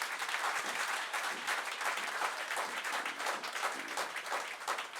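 A church congregation applauds loudly and steadily during a worship service, a dense unbroken wash of clapping from many hands filling the room with no voices standing out.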